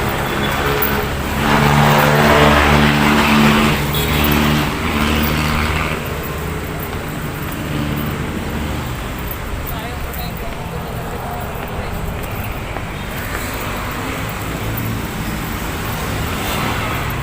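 Road traffic flows along the Manila Bay roadway in steady open-air rumble, with a louder passing vehicle early on. Someone talks over the traffic.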